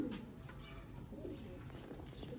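Sialkoti pigeons kept as a flock of fourteen birds coo softly in low, throaty murmurs over a steady background rumble, with no talking.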